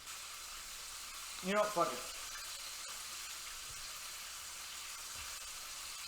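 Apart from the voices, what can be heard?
Cheeto-coated chicken frying in oil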